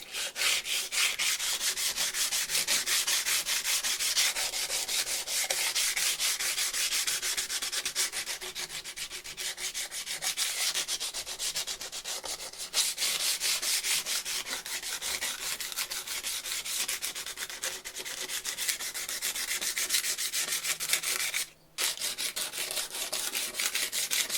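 A stropping plate is rubbed back and forth against rough abrasive grit, producing a continuous gritty scraping rhythm with a single brief pause near the end.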